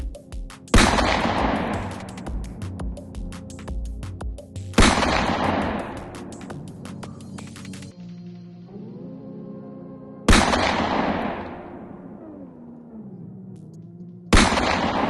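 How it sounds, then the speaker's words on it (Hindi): Gunfire erupts in street footage from Prayagraj, Uttar Pradesh: four sharp, loud shots spaced a few seconds apart, each echoing and decaying, with a lower engine-like drone between bursts. "जिस व्यक्ति पर गोलियां बरसाई जा रही है"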